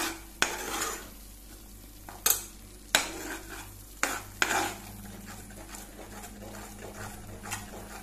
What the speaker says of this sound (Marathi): बरें फ्राय करपाचो कांदो टमाट लसूण आलें